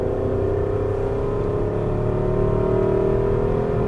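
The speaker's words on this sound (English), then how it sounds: "Downshift 2, and tighter, there you go" Aston Martin V8 Vantage engine roars loudly from inside the cabin on the Las Vegas racing track, a continuous strained drone whose pitch drifts as the gears change, with no talk.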